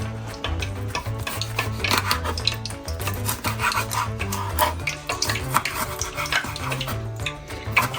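A knife slicing a red pepper on a board, a rapid series of close, rasping cuts in an uneven rhythm against a steady low background tone.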